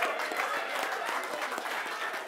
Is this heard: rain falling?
no